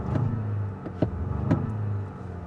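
A 2026 Jeep Grand Cherokee with the Hurricane 2.0L engine drives on the road, a steady low cabin hum with a few brief clicks and bumps, heard from inside.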